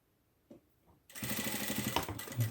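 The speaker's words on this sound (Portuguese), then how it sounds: "vou passar uma costurinha de segurança prendendo essa orelha" A sewing machine runs steadily, stitching a securing seam to attach the ear of a plush lion comfort toy, starting abruptly after a couple of faint taps and continuing loud and close without pause.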